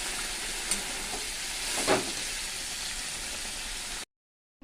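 Hot water poured into a pan of frying pointed gourd and rice sends up a loud, steady hiss with a brief surge of bubbling partway through, close by, then cuts off abruptly.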